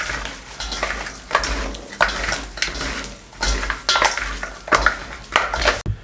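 Fish pieces being mixed by hand with black pepper and red chilli powder in a bowl make a series of wet, squelching rubs and soft clinks, rising and falling in rhythmic strokes, close up with no talking.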